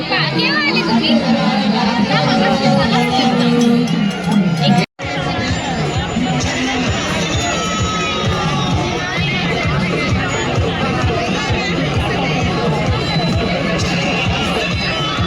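Dense crowd at a Bhovada festival procession in Barhe, with loud continuous chatter and hubbub close around and occasional cheers, and one brief dropout of sound partway through.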